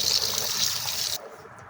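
Running water from a tap pours over pork liempo and liver being washed, a close, steady gush that cuts off abruptly near the end.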